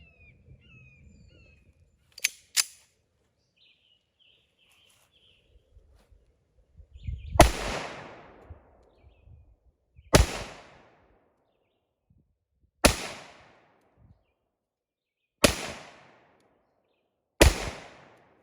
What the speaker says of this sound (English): I'm going to go ahead and see about shooting the high standard.